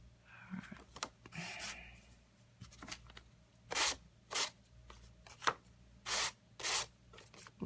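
A paper trimmer blade slices through a gold foil mat in a series of short, scraping swipes, several sharp strokes following one another at close range in a quiet room.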